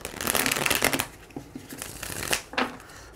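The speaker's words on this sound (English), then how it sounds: "All right, one more shuffle" A deck of tarot cards is shuffled close up in quick riffling bursts, a brief flurry at the start followed by softer taps and two more short riffles.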